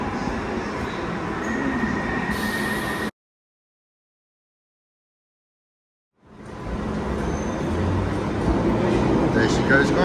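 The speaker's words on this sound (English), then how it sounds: "I'll get a footage of the train leaving" London Underground Piccadilly line train rumble and rolling wheel noise, broken by a few seconds of total silence before the roar resumes and builds as the train pulls away from the station.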